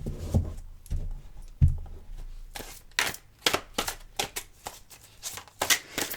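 Tarot cards shuffled by hand in a steady run of riffling, slapping bursts, close and fairly loud, with a few soft knocks of the deck at the start.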